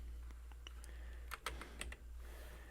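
A short burst of keyboard typing, several quick clicks clustered in the middle, close and crisp over a low steady hum.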